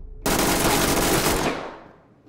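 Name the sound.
machine gun fire in video game Ready or Not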